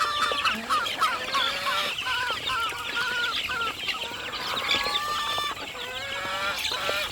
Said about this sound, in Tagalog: Ipapakita ko pala ako sa inyong sisiw mga breeder.